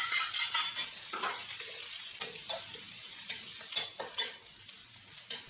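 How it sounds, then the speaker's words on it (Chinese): Shallots going into hot oil with dried shrimp in a wok for a Malaysian tze char squid stir-fry, a steady close sizzle broken by scraping stirs and occasional clinks of the spatula, no voices. "闻到香味之后，下红葱"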